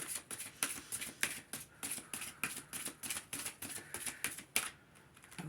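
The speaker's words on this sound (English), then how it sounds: "Gotta give a little bit of a shuffle because what do we say? It's a little stiff." A new, slightly stiff deck of oracle cards is shuffled by hand, giving a close, crisp run of rapid riffling bursts in a steady rhythm with brief pauses and no speech.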